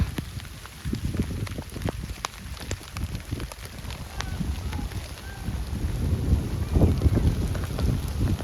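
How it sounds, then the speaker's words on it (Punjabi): Rain patters down with scattered drops and clicks, mixed with gusty wind buffeting the microphone, growing a little heavier toward the end. "ਮਸਾ ਮੀਂਹ ਆਇਆ"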